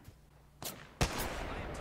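Two sharp gunshot blasts from the video game Apex Legends ring out a fraction of a second apart, the second louder and followed by a lingering noisy tail.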